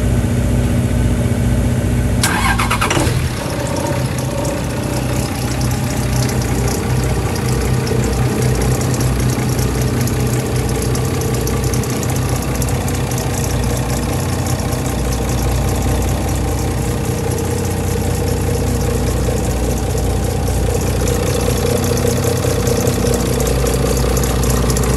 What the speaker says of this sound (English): So here we're gonna start the port motor.